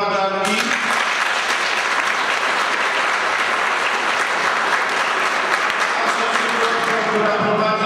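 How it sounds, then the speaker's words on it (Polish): Dense, sustained applause from a congress audience in a Warsaw hall, loud and steady throughout after a brief voice at the start. "brawa dla Anki."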